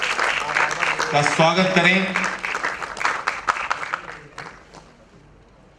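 An award ceremony crowd claps in welcome for a central minister of state for home affairs, a broad patter of applause running underneath an announcer's amplified voice, then tapering off and fading toward quiet at the end.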